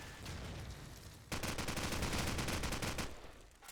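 Gunfire in a Call of Duty 4 match at a LAN tournament, a dense burst of rapid automatic shots lasting a couple of seconds after a quieter lead-in, loud and close, no talking.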